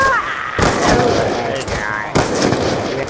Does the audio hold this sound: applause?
no